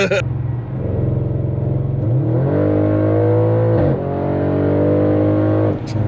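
A tuned 700+ horsepower Audi RS7 accelerates hard, its engine roaring loud and close with rising revs, a brief dip at a gear change, then climbing again before the throttle lifts.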